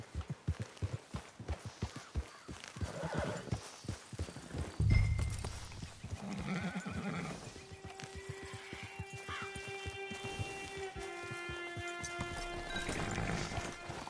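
Horse hooves clip-clop in a steady rhythm at first in the video game Red Dead Online, then give way to a continuous scene with sustained tones and ambient sound.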